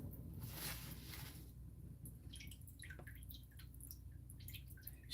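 Running water from a tap splashes and drips faintly as salt mackerel is rinsed in a kitchen, with a brief louder gush early on and scattered small drips and splashes afterward.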